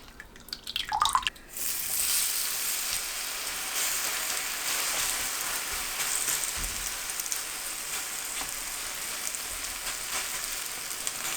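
Green onions dipped in batter sizzle in preheated oil in a pan over low heat, a dense steady frying crackle close by, starting after a brief rustle and continuing alone without speech.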